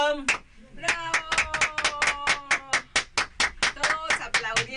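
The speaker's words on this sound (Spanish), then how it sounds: "Todos aplaudiendo aquí." Singing or sustained harmonic voice threaded through rhythmic clapping, the claps sharp and regular, loud and close, filling the stretch as an audience applauds.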